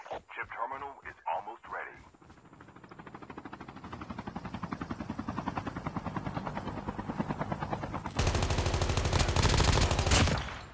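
A helicopter in Call of Duty Mobile thumps with a rapid, steady rotor beat that grows louder, joined near the end by a dense burst of gunfire, with brief talk at the start.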